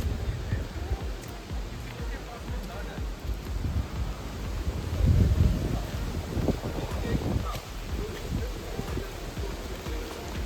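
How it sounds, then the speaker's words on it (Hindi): Strong wind buffets the microphone at Matheran's sunset point, a Maharashtra hill station, a steady broadband roar with low rumbling gusts that swell around the middle, no voices over it. "आप सुन सकते हो इन हवाओं का शोर कितना तेज है।"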